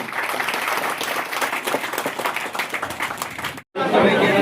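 Crowd applause at a village shrine ceremony honoring ancestors, a thick wash of many hands clapping with some murmur, cut by a brief silence near the end before resuming loud and close.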